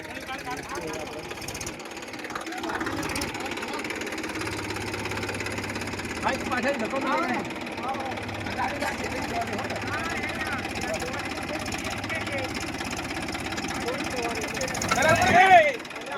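A Massey Ferguson 1035 tractor's diesel engine runs steadily at a chugging idle in a farm field, with people talking over it and a brief rise in engine noise near the end.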